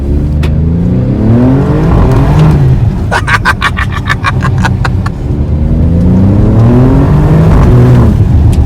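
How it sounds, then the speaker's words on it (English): An Alfa Romeo Stelvio accelerates on a frozen lake ice track, its engine loud and close, rising in pitch through repeated upshift sweeps, with a rapid rattling burst midway. "Are we supposed to only do like 5 miles an hour right here, or can I hit the gas?"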